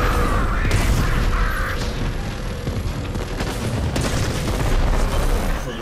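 A detonation explosion in the video game Warframe Railjack: a loud rolling boom with crackling debris and rumble filling the space, dense and sustained over a few seconds.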